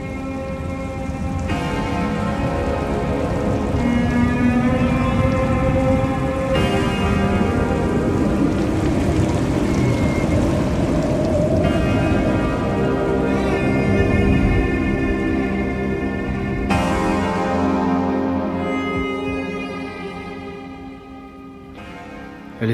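A rain sound effect for a French radio drama: a steady, dense wash of rainfall runs unbroken for about twenty seconds, with a faint tonal layer beneath, then eases slightly near the end.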